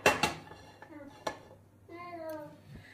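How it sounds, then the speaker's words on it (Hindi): A kadhai set down on a gas stove gives a few close metallic knocks and clanks, spaced out, with a voice talking partly over them in a home kitchen. "सबसे पहले हम गैस को ऑन करेंगे और इस पे हम रख देते हैं हमारी कढ़ाई।"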